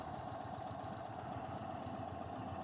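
An Indian Super Chief Limited motorcycle idles on its stock exhaust, a steady, even mechanical patter with a light ticking quality, held at a constant low level with no speech.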